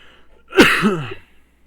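A single loud, close human sneeze bursts out sharply and trails off, during a tabletop role-playing game session in an otherwise quiet room.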